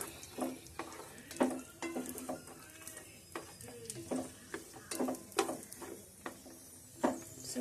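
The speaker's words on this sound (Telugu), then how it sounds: "సో కిస్మిస్ కూడా వేగిపోతుందండి." Raisins frying in a pan for rava kesari, with repeated close scraping and clinking of a spoon against the pan in an irregular rhythm over a soft sizzle; no one talks.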